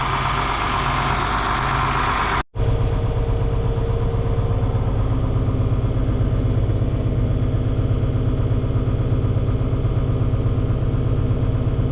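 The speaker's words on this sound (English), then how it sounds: "We have to unhook the blower tractor tonight." A steady, low rumbling old farm tractor engine idles nearby, chugging evenly throughout with a brief cut near the start.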